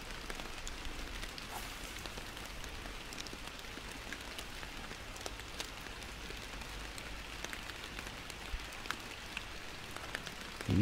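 Steady rain falls across a lake while night fishing for walleye in the Fishing Planet video game, an even, continuous hiss of drops with no voices, lasting throughout at moderate level.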